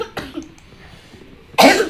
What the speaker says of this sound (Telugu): సారీ గైస్, నాకైతే కొంచెం దగ్గు అంటే ఉండే,